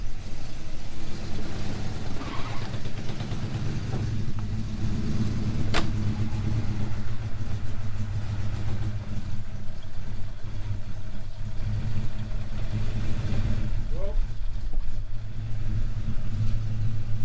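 A car engine on a project build, warmed to operating temperature and running rough while it still needs tuning of plugs and timing, rumbles loudly and steadily close by, with a few uneven revs and a sharp metallic tick partway through.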